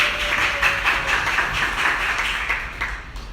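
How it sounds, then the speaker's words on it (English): An audience applauds for an author at a book event, a steady, dense patter of many hands clapping together for a few seconds without a break. "Everybody, round of applause"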